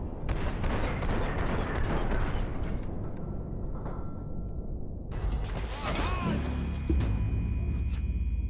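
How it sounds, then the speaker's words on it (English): Gunfire in the video game Max Payne 3: dense, continuous bursts of shots and mechanical clatter that stay loud throughout, with a heavier, brighter barrage in the second half. "Let me shoot the fucking grenade"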